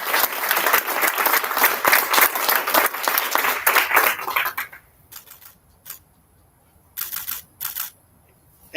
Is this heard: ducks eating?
no